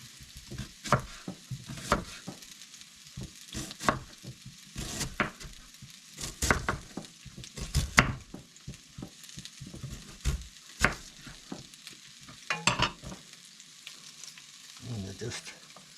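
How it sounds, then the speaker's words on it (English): Sliced food sautéing with ribs in a hot pan, with a steady sizzle broken by repeated scraping and stirring clatters from a utensil, close up with no talking. "I'm going to saute it down with the ribs."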